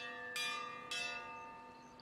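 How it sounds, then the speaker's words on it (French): A large bell rings twice in the fantasy role-playing game Pillars of Eternity 2, each strike a bright metallic clang with a long, shimmering tonal decay, the second overlapping the first's ring before a small click at the end. "Et Eder, tu vas aller sonner la cloche."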